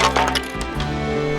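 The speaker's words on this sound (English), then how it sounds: "Then Goofy crashed through the roof of Roxanne's porch." Goofy crashing through the wooden roof of Roxanne's porch in a cartoon: a sharp splintering crack of wood followed by a short rumbling collapse, loud and close.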